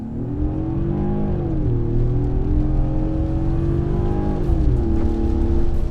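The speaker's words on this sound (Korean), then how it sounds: "풀악셀로 컴포트 모드로 밟겠습니다." Genesis GV80 facelift 2.5 turbo SUV at full throttle in comfort mode, carrying three adult men on a rainy road: a steady loud engine drone rising in pitch through two gear shifts over about six seconds, heard from inside the cabin.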